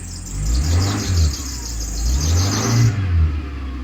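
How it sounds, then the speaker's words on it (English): A running 1990 Honda Accord EX idles while a high, continuous squeal from the air conditioner compressor rides over the engine hum and then cuts off near the end. "The squealing, I believe, is the air conditioner compressor."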